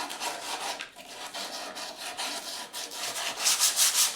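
Hand sanding of a wooden table that was marked by knocks: a steady, dry scraping of abrasive on wood in repeated strokes, close and fairly loud, becoming brighter and harsher in the last second.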